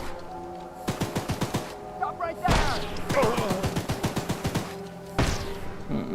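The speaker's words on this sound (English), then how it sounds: "The goon's shooting up my train." Rapid bursts of gunfire from a goon shooting at a train in the video game Choo Choo Charles, loud clustered volleys with pauses between them, and a voice speaking briefly over the shots.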